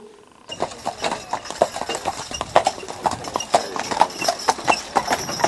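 Horses' hooves clip-clop in a steady, fairly close rhythm as horses pull loaded sleighs and carts through a historic village, with a sharp series of irregular knocks continuing throughout.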